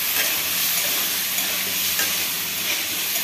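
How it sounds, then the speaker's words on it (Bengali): Sliced onions fry gently in oil with a pinch of salt for an onion masala curry, a continuous close crackling sizzle that holds steady from start to finish with no voices over it. "তো আমি আগে পেঁয়াজগুলোকে ভেজে নেব"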